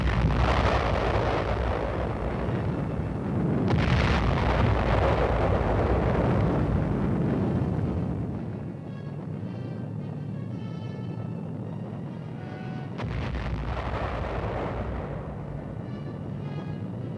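Heavy atomic artillery shell blasts on a battlefield rumble in a dense, sustained low roar that swells and surges repeatedly, with the loudest stretch in the first half and another surge near the end.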